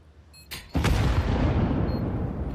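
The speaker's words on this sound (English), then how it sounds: "It's going to be a flashbang through to set them up on this retake" A flashbang grenade goes off in a Counter-Strike-style competitive shooter: a sharp bang followed by a louder blast that leaves a long, loud ringing roar filling the rest of the moment.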